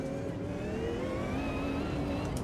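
A racing car engine in the video game Automobilista 2 whines steadily as pitch climbs, with a rising turbo whistle over a continuous roar, no voices.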